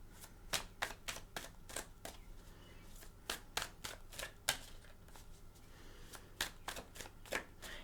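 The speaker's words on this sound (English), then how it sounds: "let's shuffle for your cards" A deck of tarot cards riffled and shuffled repeatedly in quick bursts, crisp flapping runs separated by short pauses, close and fairly quiet.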